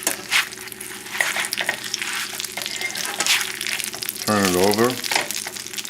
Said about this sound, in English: you can hear the nice popping of the fat, the cooking